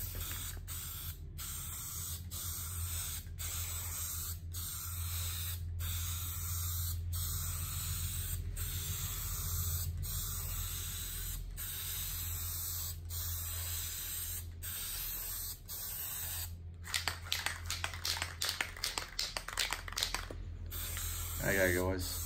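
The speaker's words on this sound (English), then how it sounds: "when painting, whether it be with a spray gun or an aerosol can" Short bursts of spray hiss repeat in a regular rhythm close by as stain is sprayed on a guitar top, followed by a stretch of rapid clicking and rattling near the end.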